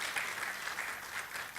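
Audience applause at a live-streamed nutrition event, a brief steady wash of many hands clapping, moderately loud and even throughout.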